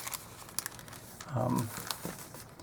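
Flat paper bags handled and crinkled close by at a craft table, soft rustling throughout with a brief fuller crinkle in the middle, a voice talking over it.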